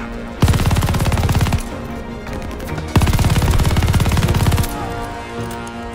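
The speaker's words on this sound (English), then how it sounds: "MG42 time!" An MG42 machine gun in Call of Duty Vanguard rips out two long, loud, rapid bursts, each over a second, with a short pause between them.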